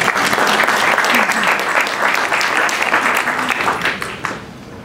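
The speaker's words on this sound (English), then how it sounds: "Another round of applause," Sustained, loud applause from a crowd at a community association's annual meeting, dense steady clapping that tapers slightly near the end.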